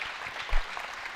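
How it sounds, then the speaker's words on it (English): Brief burst of applause from spectators at a winter archery shootdown, a short patter of claps with a low thump midway, fairly faint and alone without talk. "Just give you guys a round of applause."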